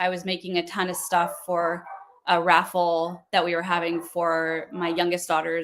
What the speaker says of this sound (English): excuse my dogs. They're barking at something.